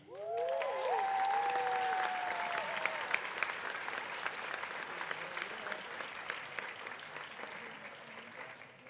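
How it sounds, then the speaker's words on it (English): Applause from the audience at a nurse pinning ceremony, beginning with a few whoops and cheers over dense clapping that then settles into steady, slowly fading applause. "They deserve lots of applause."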